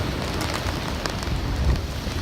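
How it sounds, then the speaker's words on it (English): Steady, dense rain pours during a storm surge from Hurricane Dorian on the beach at St. Simons Island, a continuous loud hiss of drops with low rumbling wind and surf beneath, no voices. "Starting to rain a little harder now."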